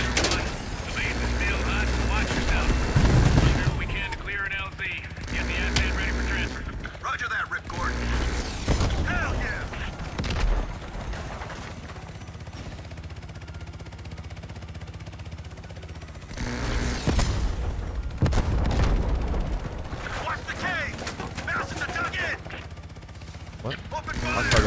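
Gunfire and mechanical weapon clatter in the Call of Duty Cold War story campaign, with bursts of shots and booms spread across the scene, loud in places and quieter between, with a voice talking over parts of it.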